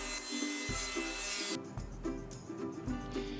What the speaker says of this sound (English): The final step at the table saw is to rip the pieces to width.